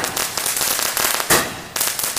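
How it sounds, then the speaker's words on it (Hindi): A PUBG-themed multi-shot Diwali firecracker fires a rapid string of loud, sharp bangs in close succession, the crackling blasts coming at a steady rhythm with one especially strong burst midway. "अब नंबर है पबजी वाले मल्टी शॉट का, हालांकि चलेगा टाइम लगेगा इसमें, 12 शॉट निकलने वाले इसमें।"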